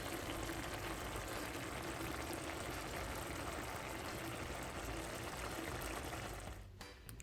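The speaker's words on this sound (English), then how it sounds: "I'm going to take my time and add water" Water poured steadily into a pot of traditional Jamaican stew chicken, a continuous close splashing rush that runs for several seconds before cutting off near the end.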